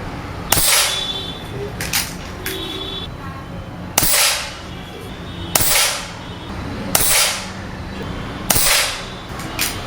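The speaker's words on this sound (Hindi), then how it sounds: "बहुत रैपिड आप फायर कर सकते हो इससे।" Air rifle shots fired rapidly indoors while plinking, five sharp cracks each with a brief ringing tail, spaced about one and a half seconds apart over a faint background.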